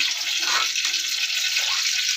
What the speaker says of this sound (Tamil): இப்போ நான் எல்லா தண்ணியும் சேர்த்துட்றேன் சேர்த்து நல்லா கலந்து விட்டுறலாம்